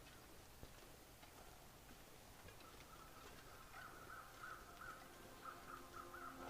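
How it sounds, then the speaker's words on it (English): Faint crows cawing in a rapid rhythmic series in the video game The Long Dark, set against a quiet steady background hum, with no talking. "And I hear crows."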